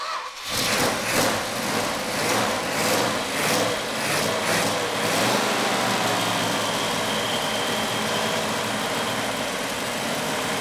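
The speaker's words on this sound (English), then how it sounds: "The engine fired up really nice." A classic Hemi V8 engine in a Plymouth Cuda idles steadily and continuously, a low rumbling drone with a rough, lumpy texture, heard close with no talking.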